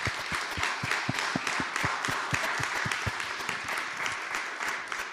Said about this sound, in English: Let's give a round of applause for all of our candidates.